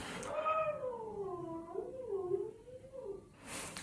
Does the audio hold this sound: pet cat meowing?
yes